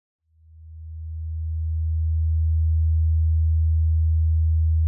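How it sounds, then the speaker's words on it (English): An 80 Hz test tone plays through Bose Frames Alto audio sunglasses as a pure, steady low hum that fades in over about a second, holds constant and cuts off abruptly. "With the Alto, 80 Hz still sounds really weak."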